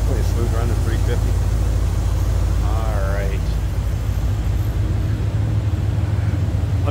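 Steady, smooth idle of the 350 V8 in a 1975 Chevrolet Corvette convertible with headers, a loud constant low drone close by, while someone speaks briefly over the engine.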